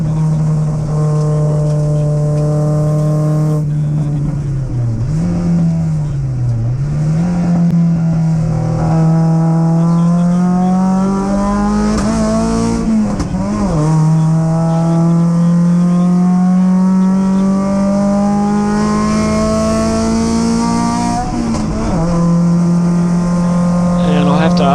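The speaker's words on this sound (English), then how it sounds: "And I'll have to ask you, Al, what are you revving out to there?" A powerful MG race car engine holds a steady high-revving drone for the whole stretch, its pitch dipping and rising briefly before climbing again.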